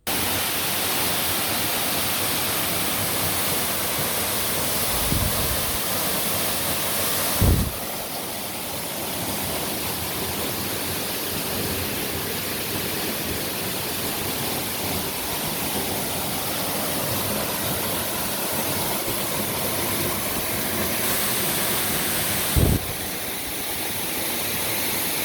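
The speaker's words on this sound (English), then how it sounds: "I'm going to leave the natural sound of the water for people like me whom hearing the sound of water is so therapeutic to the soul." Waterfall in Mutengene, Cameroon, a steady, loud broadband roar of falling water that continues unbroken throughout, with a few brief knocks and no voices.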